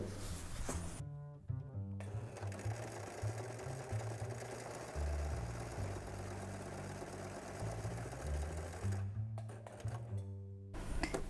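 A sewing machine stitching a fabric square at practice pace, with a steady mechanical whirring hum running for several seconds, briefly pausing and restarting near the end.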